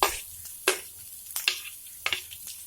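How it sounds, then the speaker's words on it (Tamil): Onions frying with fennel seeds in hot oil sizzle with a soft, steady hiss, broken by a few louder bursts as the pan is stirred close by, with no speech. "இப்போ சோம்பு பொரிஞ்சதும் வெங்காயம் சேர்த்துக்கலாம்."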